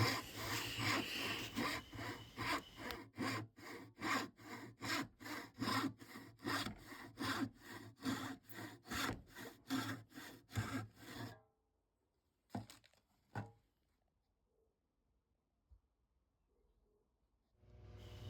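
A crosscut back saw with freshly reset but unsharpened teeth cuts through wood in quick, steady rasping strokes for about eleven seconds, close and clear, followed by a few knocks and near silence.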